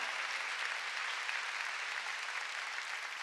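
A church congregation applauding during a Sunday worship service, a dense, steady wash of many hands clapping together throughout, moderately loud and without any voices on top.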